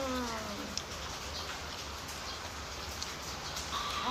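Rain falls steadily outdoors, a close, even patter and hiss of drops, with a few faint bird calls near the start.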